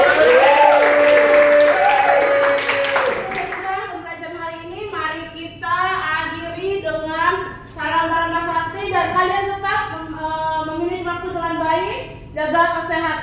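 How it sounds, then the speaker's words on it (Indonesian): A class of students in a Hindu religious education lesson claps for a few seconds at the start, a broad burst of applause, before a voice takes over and speaks through the rest. "kalian tepuk tangan untuk kalian"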